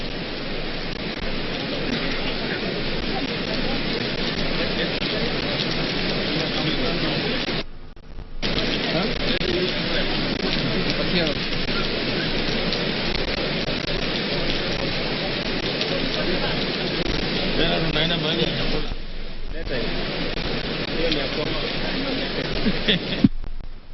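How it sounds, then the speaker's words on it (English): Heavy rain pours steadily at an outdoor ceremony in Kisumu County, Kenya, a dense continuous hiss of drops on surfaces throughout, with a couple of brief dropouts. "indeed it's pouring here in Kisumu County"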